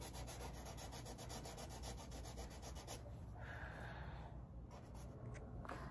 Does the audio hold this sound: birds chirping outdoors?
no